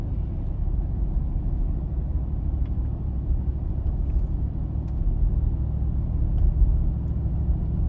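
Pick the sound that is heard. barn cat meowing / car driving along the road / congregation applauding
car driving along the road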